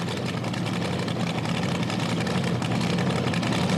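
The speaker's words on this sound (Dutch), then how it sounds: "Nu een 540 Chevrolet motor" A 540 cubic inch Chevrolet engine on a minipuller at an indoor tractor-pulling event in Zwolle gives a steady, loud low rumble with no break, heard alone.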